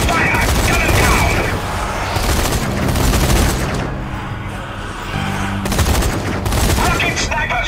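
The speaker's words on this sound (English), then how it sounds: "Open fire! Gun him down!" Zombie Army 4 combat gunfire, a continuous loud barrage of overlapping shots and booms filling the whole stretch, easing briefly toward the middle before picking up again under game noise.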